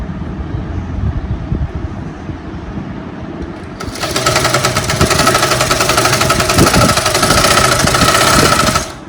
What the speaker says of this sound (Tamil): இப்போ கீழே அந்த லைனிங் கிளாத்தை அடியில் உள்ளதாக மடித்து தைக்கும்